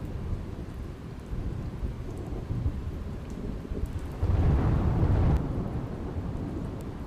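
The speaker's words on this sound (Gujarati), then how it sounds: "તાલાલાના અનેક ગ્રામ્ય વિસ્તારોમાં વરસાદ।" Heavy monsoon rain pours down in Gujarat with a deep rumble of thunder swelling midway, a steady broadband wash of rainfall under the rolling boom, no voices.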